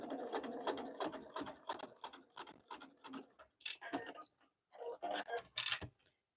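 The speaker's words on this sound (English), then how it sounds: "I'm going to sew down the zipper tab with the wrong side down at about 1/8 of an inch." A home sewing machine stitches down a zipper tab on a fabric pouch, running in a steady mechanical whirr with quick repeated needle ticks, pausing briefly and then starting again in short bursts, close and fairly loud.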